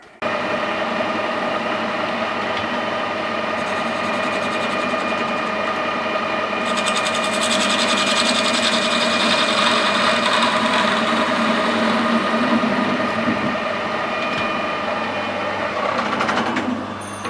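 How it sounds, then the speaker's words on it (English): A metal lathe cutting a 14 TPI thread in bronze gives a loud, steady mechanical whir and hum with a high whine, unbroken throughout at close range. "it's a metallic lathe"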